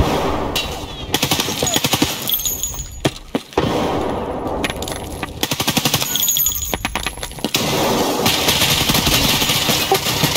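Rapid automatic gunfire in Escape From Tarkov comes in loud bursts of sharp, rattling shots, broken by brief pauses, with no one talking.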